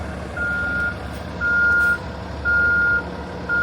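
A truck or bus backing up near Independence Hall in Philadelphia, its reversing alarm sounding four long, evenly spaced beeps over steady idling engine noise and street ambience.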